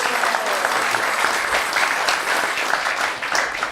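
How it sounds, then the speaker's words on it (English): A gathered congregation at Bhaktivedanta Manor claps loudly and continuously for the organiser of a festival, the thick wash of many hands staying strong throughout before thinning slightly near the end. "Let's give a round of applause for Vaishnav Prabhu."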